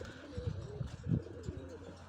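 A homing pigeon coos softly in a loft, a few low, throaty rolling calls close by, with faint background noise.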